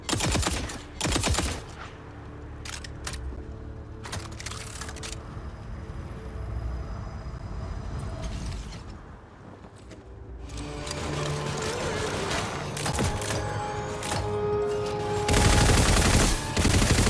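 Gunfire in the looter-shooter game Tiny Tina's Wonderlands, sharp bursts of rapid shots early on, then a quieter stretch before dense, loud firing and effects build toward the end, with some speech mixed in.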